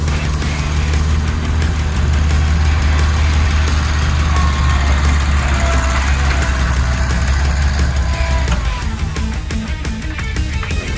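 An old tractor engine idles steadily and loudly nearby, a continuous low rumble with a fast, even mechanical chug that shifts slightly near the end.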